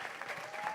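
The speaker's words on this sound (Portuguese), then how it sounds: "Palmas para o professor Luiz." Applause for a professor at a podcast-style event, a brief burst of steady hand-clapping from a small audience at moderate volume.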